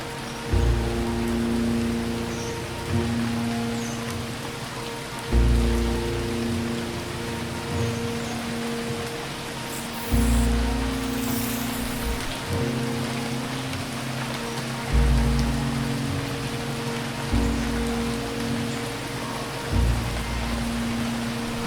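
Steady rain hisses across the scene in the 2017 PC game Phoning Home, a dense even wash layered over a low droning tone that swells in repeating pulses about every five seconds.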